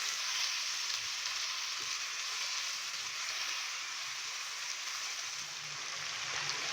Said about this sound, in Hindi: हाई फ्लेम पे हम 5 मिनट के लिए चिकन को अच्छे से भून लेंगे